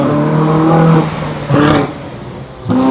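Ferrari sports cars revving hard nearby at a large gathering, loud harmonic engine roars that rise, drop off and surge again in three bursts, with no talk over them.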